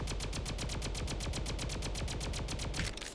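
A raygun in the Roblox game Flag Wars firing rapidly under an auto clicker, a fast, evenly spaced stream of sharp zapping shots, loud and continuous for about three seconds.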